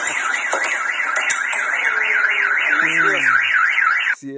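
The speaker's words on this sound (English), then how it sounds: "They set off the car alarm too." A car alarm blares loud and close with a continuous warbling, rising-and-falling siren, with sliding chirps layered over it, before cutting off abruptly near the end.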